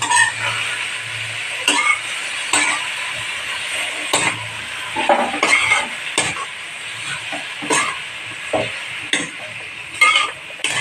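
A mango pickle mixture sizzles and fries in a pan while a utensil stirs it in repeated scraping strokes, close and clear over a soft, steady bubbling.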